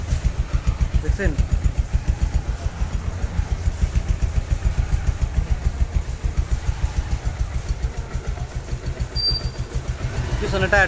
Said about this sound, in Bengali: এবং এই বাইকটাকে স্টার্ট দিয়ে সাউন্ডটাও শুনে দিই।